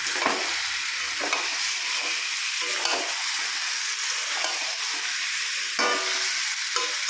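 Chicken being stirred and sautéed with garlic paste in a pan over a gas flame, a close sizzle broken by repeated scraping strokes of a spatula at an uneven rhythm, no voices.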